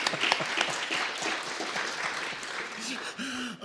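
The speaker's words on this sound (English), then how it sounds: "I don't know whether you clap a video recording" An audience at an EV energy taskforce event claps. Steady applause runs throughout, fairly loud and fading slightly near the end. A voice comes in briefly over it.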